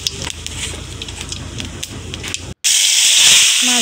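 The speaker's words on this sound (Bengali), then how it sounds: "দেখুন তেল গরম হয়ে গেছে। গোটা জিরা আমি এখন এর মধ্যে দিয়ে দিতেছি।" Whole cumin seeds drop into hot oil in a wok and burst into a loud, sudden, steady sizzling hiss after a quieter stretch of background noise.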